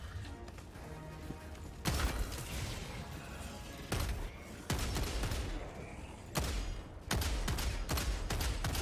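A shotgun fires repeatedly in Helldivers 2, loud close blasts spaced about a second or two apart amid dense combat noise and rumbling, with no clear talking.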